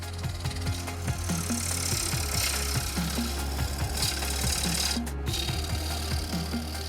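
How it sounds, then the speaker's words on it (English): A gouge turns a sycamore bowl on a wood lathe, producing a steady close grinding rasp over a constant motor hum. "He starts by placing the wood on a lathe and uses a sharp tool called a gouge to shape the base of the bowl."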